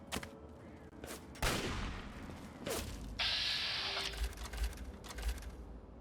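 Gunfire in the video game Fallout 3, with a few sharp distant shots and bursts, a hissing blast, and rumbling impacts in quick succession, moderately loud with no voices over them.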